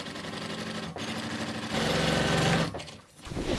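A sewing machine runs steadily while stitching the selvage of sofa upholstery fabric, a close, continuous whirring hum that speeds up midway and then slows and trails off near the end.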